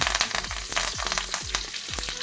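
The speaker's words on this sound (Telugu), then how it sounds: "ఇప్పుడు ఆయిల్ వేడైందండి తాలింపు గింజలు ఆవాలు జీలకర్ర అలాగే ఎండుమిరపకాయలు" Mustard seeds, cumin, dry red chillies and curry leaves sizzling in hot oil, a loud, close frying hiss with rapid crackles and pops throughout, no voices.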